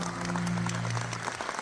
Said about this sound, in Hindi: ऑडियंस तालियां बजाती रह गई